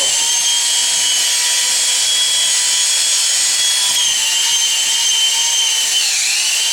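A power drill mixing thick drywall mud whines continuously at high speed, steady and loud, with a slight dip in pitch near the end as it churns the mud.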